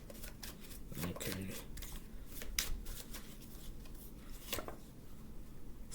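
Tarot cards shuffled and drawn by hand, a quiet, steady riffling and flicking of card stock with soft snapping taps, close and faint, with no talking.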